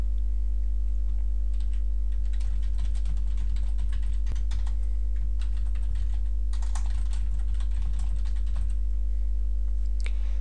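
Steady typing on a computer keyboard while editing translations in the Anwiki web software, with irregular clusters of keystrokes and a few louder clicks over a constant low electrical hum, and no voices.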